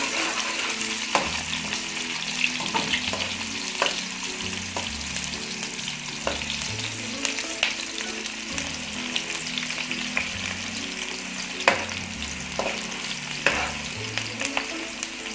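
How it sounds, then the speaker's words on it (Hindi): Onion browns in a pan for a green bean and potato sabzi, a constant close sizzle with occasional sharp crackles and spatula clicks, and no voices. "प्याज को हम थोड़ा सा ब्राउन करेंगे"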